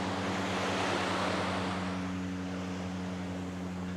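Surf rolling onto Clifton Beach near Cairns, a steady broadband wash with a constant low hum underneath, loud and continuous through the whole stretch with no voices.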